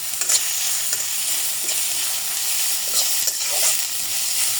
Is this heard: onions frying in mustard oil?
yes